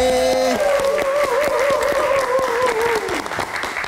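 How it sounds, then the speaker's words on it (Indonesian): A studio audience on a late-night live music show claps energetically while a sung or spoken voice carries over the top, the clapping thick and steady before easing slightly near the end. "kita kasih tepuk tangan sekali lagi"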